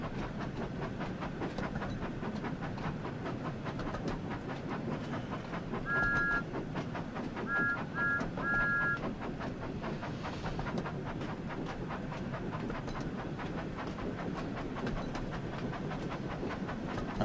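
A train rolls along rails in Train Sim World 5 on a Thomas & Friends route near Dunster, with a continuous rumbling drone, faint rhythmic clatter and a few brief high whistle-like tones partway through.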